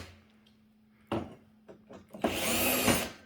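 A power driver loosens screws on a TV mount bracket, a few clicks and knocks first, then a loud close whirring burst near the end.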